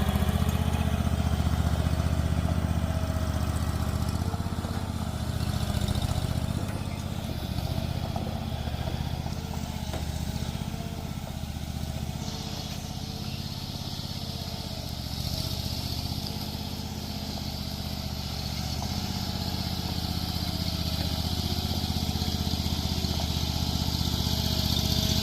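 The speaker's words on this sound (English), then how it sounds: "So it's got a little lawnmower engine, like a garden tractor engine in that machine right there." A small lawnmower-style garden tractor engine drives a remote-controlled Mule moving a 12x24 shed, a steady mid-pitched drone that sits at a moderate distance and shifts slightly in load over the whole stretch.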